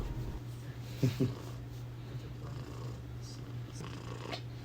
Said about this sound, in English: cats all over this place.